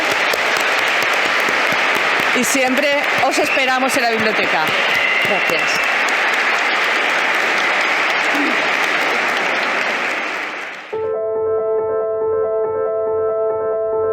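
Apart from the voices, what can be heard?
audience applause for an author at a library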